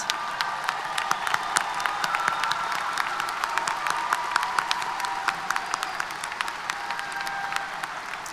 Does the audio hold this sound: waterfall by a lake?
no